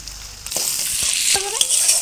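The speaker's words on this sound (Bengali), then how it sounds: "সব কিছু মশলা ভালো করে তেলে ভেজে নেব" Spices fry in oil in a pan, giving a steady broadband sizzle up close, with a few scraping stirs and clinks of the spoon against the pan.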